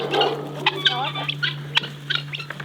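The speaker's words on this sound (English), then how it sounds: "The ducks are excited." Excited ducks, quick nasal squawks and quacks in short bursts over a steady low hum, close by.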